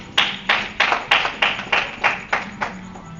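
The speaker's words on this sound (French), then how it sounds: "Acclamez la parole du Seigneur." Distinct hand claps from a church congregation land at a steady rhythm, about nine sharp claps in three seconds. They are close and clear, with a faint voice underneath.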